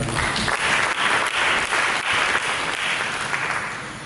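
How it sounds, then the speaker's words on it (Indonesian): Steady applause from a church congregation, dense and continuous clapping that holds at an even level throughout. "Mari kita beri tepuk tangan."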